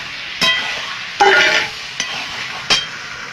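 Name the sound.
chicken added and stirred into frying spiced masala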